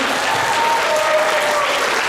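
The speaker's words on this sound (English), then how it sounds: "Can we get a round of applause for our first timers?" Loud, dense audience applause at a pony fan convention cider festival, continuous clapping with faint cheering mixed in.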